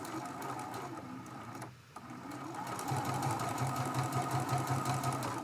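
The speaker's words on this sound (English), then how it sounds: "We're going to chain piece and fold all of our Dresdens in half and sew a 1/4 inch seam allowance." Sewing machine chain piecing folded Dresden plate fabric for a quilt block, a steady close mechanical whirr that pauses briefly, then resumes louder and runs continuously.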